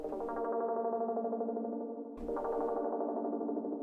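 Plastic craft synth patch run through effects with reverb, playing two sustained chord-like phrases with a brief dip in between, bright, steady and loud with no voices.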